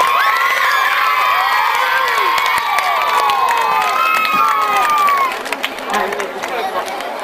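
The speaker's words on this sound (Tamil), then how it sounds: "அனைவரும் கரகோஷம் எழுப்புவோம்." Loud crowd noise at a school annual day celebration, with children shouting and cheering over scattered clapping, a dense, lively roar that dips briefly near the end.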